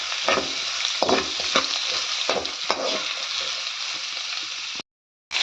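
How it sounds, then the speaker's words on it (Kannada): Onions frying in a pan, a steady loud sizzle with stirring scrapes at irregular intervals, close up with no talk; the sound cuts out briefly near the end before resuming. "ಇವಾಗ ನೋಡಿ ಈರುಳ್ಳಿ ಫ್ರೈ ಮಾಡ್ತಾ ಇದ್ದಾನೆ ಸ್ವಲ್ಪ ಫ್ರೈ ಮಾಡಿಕೊಳ್ತೀನಿ"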